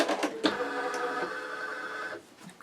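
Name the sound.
embroidery machine stitching a design with MagnaHoop magnetic hoop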